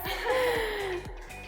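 Heavy, strained breathing during a workout, with sharp gasping inhales repeating about every half second, close and loud, no talking.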